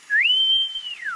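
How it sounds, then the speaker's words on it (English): A whistling kettle boiling water for coffee gives a single clear, loud whistle that slides up, holds steady for most of a second, then drops away, alone without talk. "So now I just wait for that to boil. Actually it whistles."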